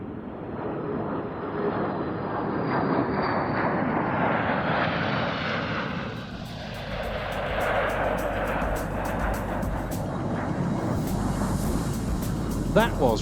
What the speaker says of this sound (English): the final wave of the flypast, a US Air Force F-16CJ, Turkish Air Force F-16C, and Romanian Air Force F-16 AM